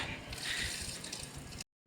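Water runs and splashes steadily as a new car is washed during servicing at a showroom, a hissy spray close by for a couple of seconds before cutting off abruptly.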